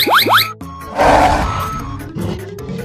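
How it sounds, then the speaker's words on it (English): Cartoonish gorilla grunt from a 3D animal slide video game, a loud burst of rough low noise following a springy boing-like game effect, fading into softer background game sounds. "Gorilla."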